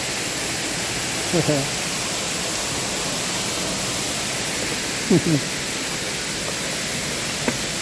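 Namtok Sawan Noi, a tiered waterfall in Mae Sariang, pours in a steady, broad rushing roar that fills the whole stretch, with a few brief voices breaking through faintly now and then.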